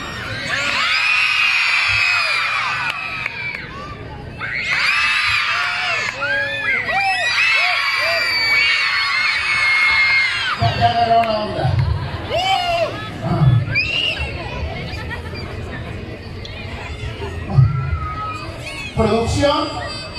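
A crowd at a Clown Day show in Pánuco, Veracruz, many of them children, shouts and screams loudly in long sustained bursts that rise and fall, with a few shrill whoops and some voices mixed in.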